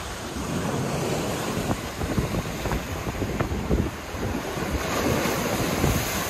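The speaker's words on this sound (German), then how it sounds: "Hier fängt sich der Wind." Gusting wind buffets the microphone while waves wash and break along the coast at Santa Ponça, Mallorca, a loud, continuous roar outdoors.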